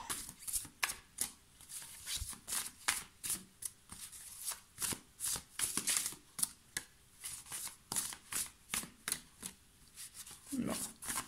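Tarot cards are shuffled close up in a steady run of quick riffling bursts, each soft and papery, repeating rhythmically for several seconds.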